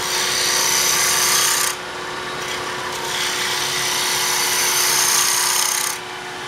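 A wooden knob's mushroom top is tapered on a lathe, the gouge giving a bright, hissing scrape that cuts in and out in several passes, with brief lighter pauses between cuts and no talking.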